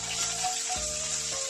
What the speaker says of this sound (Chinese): 放入八角跟桂皮、生姜，在锅中稍微炒一下，炒出它的香味